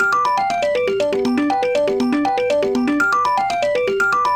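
A lost phone rings when called, its melodic electronic ringtone repeating a descending arpeggio pattern loudly and steadily with nothing else heard.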